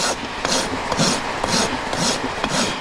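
A rasp files a horse's hoof at the heel during a trim, making rhythmic rough scraping strokes about twice a second, close and loud, with no voices.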